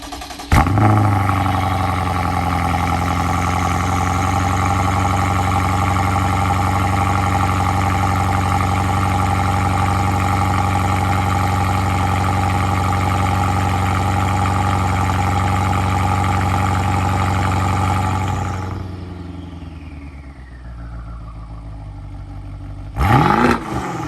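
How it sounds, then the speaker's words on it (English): A BMW F13 650i engine with catless downpipes cold-starts loudly and settles into a steady, raspy idle for nearly twenty seconds, then shuts off and winds down, followed by a brief clatter. "Let me do a cold start."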